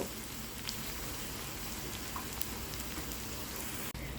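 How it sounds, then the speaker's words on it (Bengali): Chopped onions sizzle steadily in a pan as they are stirred and fried for a Bengali jackfruit seed mash, a continuous close crackling hiss with no voices. "পেঁয়াজটা দিয়ে একটু নাড়াচাড়া করে দেবো এক দু মিনিট এভাবে ভেজে নেব"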